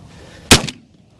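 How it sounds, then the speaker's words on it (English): A single loud shotgun blast while pigeon hunting in a cut corn field, one sharp close report with a short echo tail over a quiet outdoor background. "He's gonna shoot this one right here."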